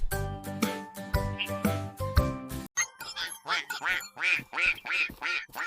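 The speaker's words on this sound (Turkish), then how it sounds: "Bu bir ördek. İngilizce karşılığı duck." A short bright chime melody gives way to a rapid run of about eight nasal duck quacks in a steady rhythm, fairly close and clear.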